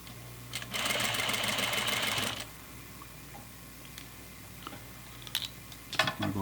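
A sewing machine stitches flannel pajama pants slowly, a quiet whirring burst of about a second and a half, followed by soft handling and rustling of fabric.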